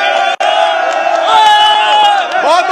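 A studio audience at a live India versus Pakistan World Cup cricket show raises a loud, sustained roar of cheers and whoops, close and continuous, with a brief drop near the start.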